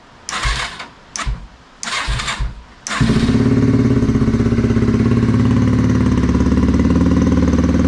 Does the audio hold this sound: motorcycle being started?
yes